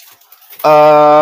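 After a brief quiet moment, a single loud pigeon coo starts abruptly and holds, close to the listener.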